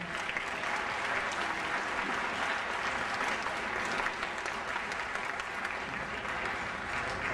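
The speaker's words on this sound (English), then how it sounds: "Reverend John Everhart, let's give him a round of applause." Audience applause at a Martin Luther King Jr. Day event, a dense, even roar of clapping from a crowd that holds steady at a constant level from start to finish.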